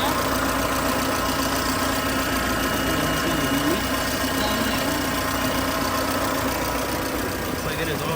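A turbocharged Honda B20 VTEC engine idles with a steady, even drone and a faint rhythmic knock, running continuously at close range with no break in the sound.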